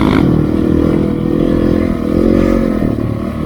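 A motorcycle engine revs hard and loud up close in the desert during a wheelie, roaring with rising and falling pitch and some rattling clatter.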